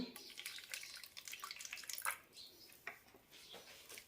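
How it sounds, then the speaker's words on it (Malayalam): Quarter cup of water is poured into a bowl of salt and sunflower oil while making besan pakoda batter, a faint, close splashing trickle with small irregular splashes and drips. "ഇനി ഇതിലേക്ക് കാൽ കപ്പ് വെള്ളം ഒഴിക്കാം"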